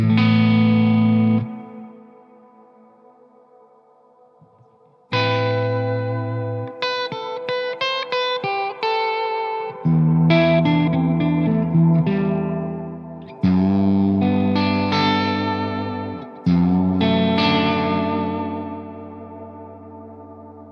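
An electric guitar plays chords and single notes through a Strymon Big Sky reverb pedal set to a long decay, each strike ringing out and fading slowly into a lingering wash, with no talking.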